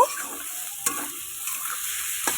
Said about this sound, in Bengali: এবার আমি ভালো করে নাড়তে থাকবো